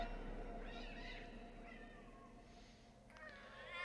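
Several game cats meow in turn, drawn-out rising and falling cries over a quiet, murky ambient backdrop, fairly faint and with no talking.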